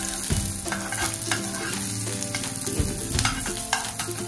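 Long-sliced onions frying in a spoonful of oil in a pan for masala Maggi, a dense continuous sizzle and crackle with stirring scrapes throughout, no talking.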